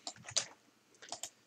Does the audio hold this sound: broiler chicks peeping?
no